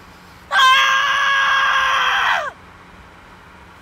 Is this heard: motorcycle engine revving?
no